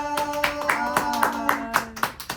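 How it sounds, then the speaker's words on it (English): A small group claps in an even, quick rhythm for a student body president on a campus radio podcast, the sharp claps sitting over a sustained musical tone. "Give us a round of applause for Najet!"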